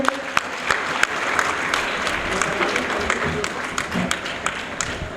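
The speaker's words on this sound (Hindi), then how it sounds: "जोरदार तालियों से अभिनंदन करें" A crowd applauds steadily, dense clapping sustained throughout with a few sharper claps standing out near the start.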